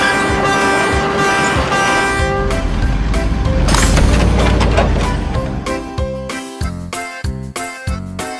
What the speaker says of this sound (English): Green garbage truck.